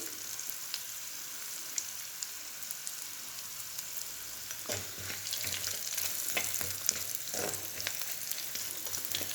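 Onion browning in a pan with peanuts and a little salt for a Maharashtrian wheat kurdai dish, a steady crackling sizzle that thickens midway, with soft stirring scrapes and no talk.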